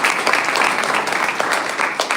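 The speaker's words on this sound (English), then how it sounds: "A huge round of applause to all of them." Steady applause from an academic event audience at a university function, a dense continuous wash of hand clapping, fairly loud and close, with no voices standing out.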